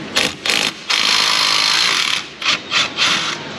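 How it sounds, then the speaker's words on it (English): Power tool whirring in quick bursts and then a longer sustained run while removing caliper bracket bolts on a Ford F250, close and loud with no speech. "let's get those caliper bracket bolts disconnected"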